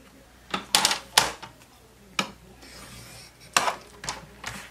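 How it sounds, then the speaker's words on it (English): Paper being scored for a treat box, a series of short scraping rubs and taps in irregular bursts, close and fairly quiet. "We're going to first score this one at 1/2 inch."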